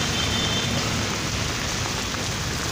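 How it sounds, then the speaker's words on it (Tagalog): Heavy rain pouring onto a street near a mall, a loud, dense, unbroken hiss of downpour spattering on hard surfaces, with no talking. "sobrang lakas po ng ulan"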